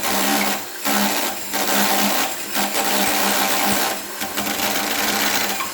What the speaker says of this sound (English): We're drilling the hole part.